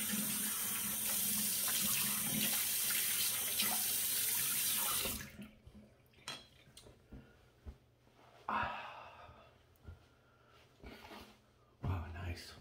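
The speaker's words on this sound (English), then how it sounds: "let's give it a rinse." Running tap water splashes loudly over a safety razor being rinsed at a sink for about five seconds, then stops, leaving faint handling sounds and small drips.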